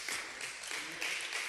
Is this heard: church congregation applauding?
yes